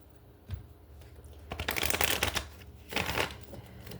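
Tarot cards are shuffled by hand in a few quick riffling bursts, close and crisp, with brief pauses between them and no talking.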